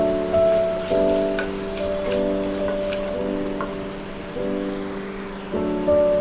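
Masala and spices sautéing in a pan over a low flame while a mixed sprouts pulav is cooked, giving a steady, even sizzle under continuous background music.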